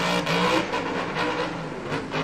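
A Monster Jam monster truck at the World Finals revs its engine hard while seeming stuck in a low gear, a loud, rough, sustained roar that rises and dips slightly across a couple of seconds.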